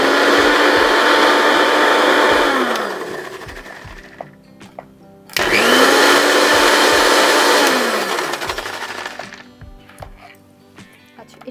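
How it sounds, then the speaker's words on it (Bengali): A mixer grinder whirs loudly while grinding ingredients for a saffron pistachio sherbet, running in two long bursts with a brief pause between them, each winding down as the motor slows. "এটা এবার তুমি গ্রাইন্ড করে দাও আমাকে।"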